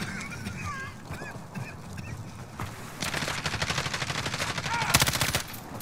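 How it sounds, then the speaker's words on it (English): Video game gunfire rattles in rapid automatic bursts, getting louder and denser in the second half, mixed with quacking and honking sounds and game effects. "I want to hear them shooting."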